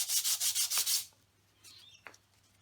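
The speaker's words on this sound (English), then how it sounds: "I've got a bit of 120 grit sandpaper. I'm just going to rub across the grain, just lightly." Hand sanding across the grain with 120 grit sandpaper: about seven quick, even rubbing strokes close up, then the scratching stops and only faint handling noises remain.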